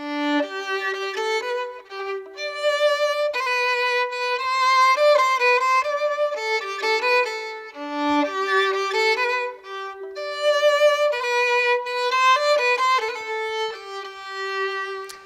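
A solo violin plays a passage from Charpentier's Te Deum in even, unswung straight quavers, a clear bright melodic line heard alone for about fifteen seconds.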